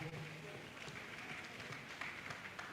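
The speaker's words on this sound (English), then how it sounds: "Let's clap for him and celebrate him as he comes on board." An audience at a tourism forum applauds as a speaker comes up to the podium: faint, dense clapping that patters steadily for a few seconds, with a voice talking over it.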